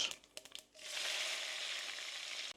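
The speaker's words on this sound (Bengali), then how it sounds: "তারপরে আমরা দিয়ে দেব হচ্ছে পেঁয়াজ" Onions dropped into hot oil with cumin and panch phoron for a vegetable labra, a few soft knocks followed by a sudden, steady close sizzle that holds loud and even until it cuts off.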